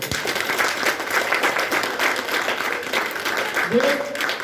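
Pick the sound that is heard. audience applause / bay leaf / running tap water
audience applause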